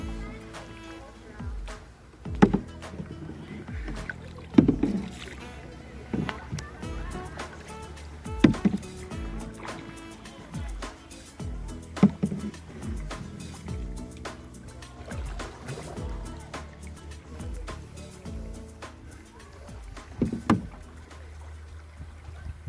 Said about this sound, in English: You should already use your corrective paddling